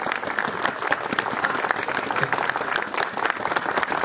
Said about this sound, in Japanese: 大きな拍手よろしくお願いいたします